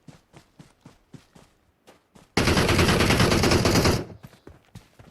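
Quick footsteps patter before a sudden loud, sustained burst of automatic gunfire in PUBG Mobile, close and continuous for over a second before the steps resume.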